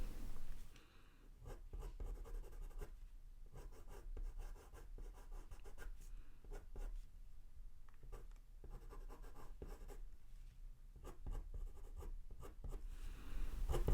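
A Derwent Drawing coloured pencil in yellow ochre scratches steadily across paper in short, close strokes, quiet and continuous with no talk.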